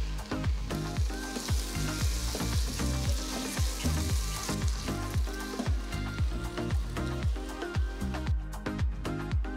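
Four large finely chopped tomatoes frying with ginger garlic paste for a pressure cooker mutton curry, a loud, close sizzle paced by rhythmic stirring strokes that keep going, with no speech.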